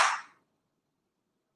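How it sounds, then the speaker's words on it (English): A single strong hand clap, sharp and close, followed by a fast fade into near silence with no voices. "make it a strong hand clap like you mean business"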